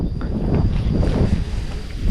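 Wind gusts steadily across an open rice field, a loud continuous rush buffeting the microphone with no clear pauses.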